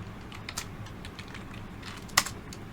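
Typing on a computer keyboard while writing a WordPress plugin file, scattered soft key clicks over a low hum, with one sharper, louder keystroke near the end.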